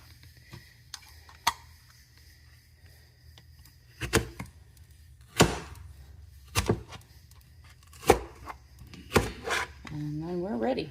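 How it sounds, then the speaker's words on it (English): Strawberries being sliced with a cup slicer: sharp, irregular clicks and chops, close and fairly quiet, with some faint background voice and a brief tonal sound near the end. "we'll use our cup slicer because that'll make nice small slices"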